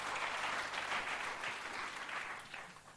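Steady applause from a church congregation during a service, dense and continuous with no distinct individual claps, gradually thinning toward the end.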